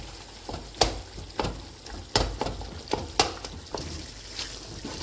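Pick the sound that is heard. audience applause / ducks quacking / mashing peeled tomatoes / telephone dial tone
mashing peeled tomatoes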